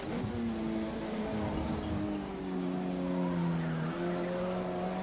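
Race car tires squealing as the car slides out of corners in Project Cars 2, long wavering screeches over a steady engine roar, loud and continuous without speech.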